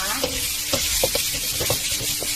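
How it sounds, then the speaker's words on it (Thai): Minced pork stir-frying in oil for a Thai chili dip, a loud close sizzle broken by repeated scraping stirs of the spatula in an uneven rhythm. "แล้วก็เทหมูสับลงไปผัดค่ะ ผัดให้สุกก่อนนะคะ"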